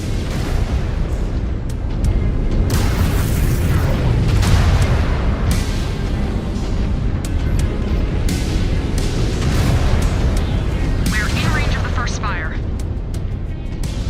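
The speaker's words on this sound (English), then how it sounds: "Incoming missile." Heavy missile impacts and explosions in MechWarrior 5: Clans battle gameplay, loud dense booms and rumbling blasts filling the whole stretch, with voices talking over the combat.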